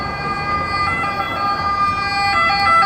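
An ambulance siren wails along a street in Rome, Italy, its tone held steady and fairly loud over a constant wash of traffic noise.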